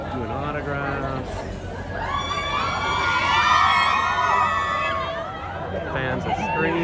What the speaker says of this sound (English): Fans are screaming.